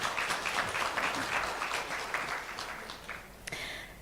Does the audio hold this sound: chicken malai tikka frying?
no